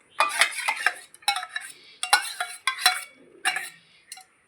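A spoon scrapes and clinks against a metal pot while yogurt starter is added and spread for homemade yogurt, in several short bursts with brief pauses between.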